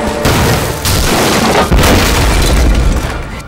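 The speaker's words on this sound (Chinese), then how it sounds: "这一会儿扔了多少炸弹？" Bombs explode in a battle scene from a war film about the anti-Japanese war, with loud, close, rumbling booms that follow one another without a break for a few seconds.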